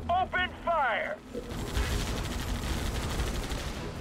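Rapid gunfire and explosive bursts from the Halo Wars video game, dense continuous shooting after a short spoken command, loud and close, with game voice audio at the start.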